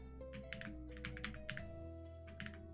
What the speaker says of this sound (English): I don't know if you guys can hear the new keyboard sounds, but oh, I love them